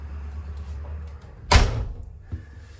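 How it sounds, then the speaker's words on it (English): A sheep camp trailer door swings shut with one sharp, close thud, followed by a softer knock a moment later. A low steady hum runs underneath, and nobody speaks. "I'll close this door and then you won't get the rub noise"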